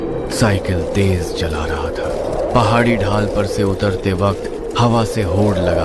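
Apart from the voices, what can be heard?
birds chirping and cooing, narration sound effect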